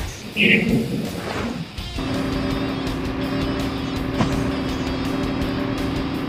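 A car in Call of Duty Mobile drives with a steady, droning engine hum that runs on for several seconds after a brief chirp and clatter at the start, with no talk over it.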